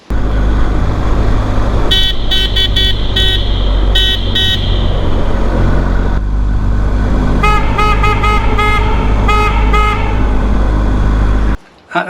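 Denali Sound Bomb Mini aftermarket horn on a BMW R1250 GS motorcycle, blasting in several short loud honks in two bursts over a steady engine rumble, with a low, blaring tone.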